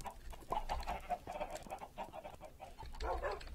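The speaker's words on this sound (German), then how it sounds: "Mit unserer kleinen Hühnerfarm, die wir dort auch noch haben. Also unserer kleinen Eierfarm." Chickens on a small egg farm in the video game Minecraft give off a run of rapid, close clucks in uneven bursts, fairly loud and heard without any speech.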